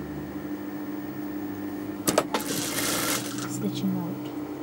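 Sewing machine stitching fabric for a boy's jubba. The motor hums quietly, then a busier, louder run of stitching starts partway through, with light handling noises and a voice.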